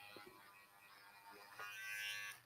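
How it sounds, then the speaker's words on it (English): Cordless electric seam ripper buzzing faintly as its blade slices through bobbin stitches on fabric, a thin quiet motor whine rising slightly toward the end. "we're going to just put that blade right on those bobbin stitches and cut"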